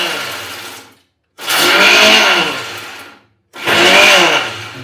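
A kitchen mixer grinder pulses roasted peanuts for a jaggery peanut halwa in two loud bursts of about two seconds each, separated by a brief silence, with the blades whirring and the nuts rattling inside the jar.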